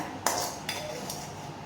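A spoon clinks against a bowl while prawn batter is mixed, three short metallic taps spaced across a brief moment over a quiet background.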